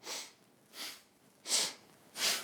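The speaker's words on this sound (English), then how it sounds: "Eventually working up to this powerful sniff and throw breath." Four sharp, forceful sniffing breaths in a kundalini breathing exercise, evenly paced about every 0.7 seconds, close and breathy with no talking.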